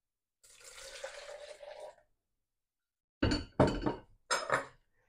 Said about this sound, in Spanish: Vamos a colocar un vaso de agua caliente, no tiene que hervir.